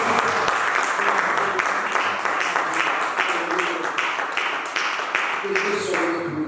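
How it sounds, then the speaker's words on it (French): A church congregation claps loudly and continuously during a worship service, with fast, even clapping throughout and voices mixed faintly into the applause. "si quelqu'un est là pour la gloire de Dieu, il peut applaudir fortement"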